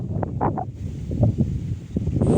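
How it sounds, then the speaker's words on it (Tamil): Outdoor wind gusting against the microphone, a steady low rumbling roar with soft buffeting bursts, continuous and fairly loud with no other clear sounds. "காற்றடிக்குதுப்பா, சூப்பராக காற்றடிக்குதுங்க."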